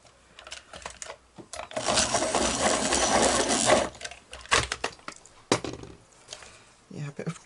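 A true blue colored pencil being sharpened, a sustained grinding buzz of a few seconds, followed by short scattered clicks and taps, with a voice speaking briefly at the end.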